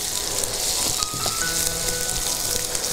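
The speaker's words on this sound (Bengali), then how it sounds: "হ্যাঁ, প্রথমে আদা কুচি আর রসুন কুচিটা দিয়ে দেবো।" Chopped ginger and garlic sizzle steadily in hot oil for chili mushroom, a dense continuous crackle with a few brighter pops and faint clinks, with no one talking.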